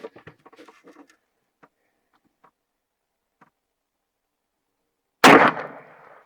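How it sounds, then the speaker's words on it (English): A single loud, close gunshot from a 10mm firearm shooting reloaded rounds bursts out after several seconds of near-silence broken only by faint scattered ticks. "We're going to shoot a 5-shot group, and we're going to see how fast they are and how well they group"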